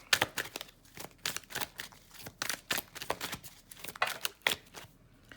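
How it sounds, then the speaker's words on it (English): Tarot cards being shuffled by hand: a quiet, close run of quick papery riffles and slaps, repeating in an uneven rhythm with no talking. "I'm gonna keep shuffling."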